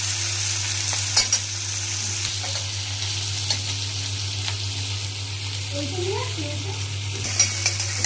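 Green chillies fry lightly in a pan for okra (bhindi), a soft steady sizzle under a constant low hum, with occasional stirring scrapes and clicks throughout.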